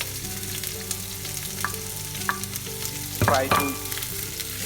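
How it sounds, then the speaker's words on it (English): Onions frying in a hot pan for Indian chicken curry, a steady close sizzle with scattered stirring clinks and a louder burst of crackling near the end; a voice speaks briefly. "Now I'm going to add onion into it"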